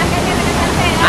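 Lembah Anai waterfall in West Sumatra, a 35-metre drop, roars as a loud, steady broadband rush of falling water that fills the whole short stretch without a break.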